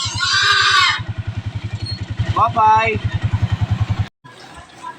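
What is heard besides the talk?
motorcycle cab in street traffic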